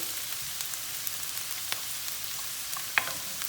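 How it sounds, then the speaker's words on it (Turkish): Onions browning in a pan for an aubergine dish give a steady, dense sizzle, with occasional sharper crackles and pops in the frying. "Soğanımız kavrulmaya başladı, rengini atmaya başladı."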